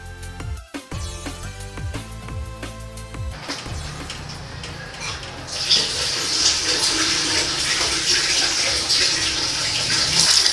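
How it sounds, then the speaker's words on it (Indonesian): After some clunks and handling noises, the main outdoor tap is opened and water begins flowing, building into a steady hissing gush that continues to the end. "Sekarang saya akan nyalakan atau putar keran utama yang ada di luar."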